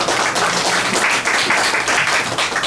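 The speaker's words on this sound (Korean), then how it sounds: "박수 한번" Audience applause at a Korean academic conference on Chinese, Japanese and Korean publishing and typography fills the hall for nearly three seconds, a steady, dense clatter of many hands clapping without a break and close to the listener.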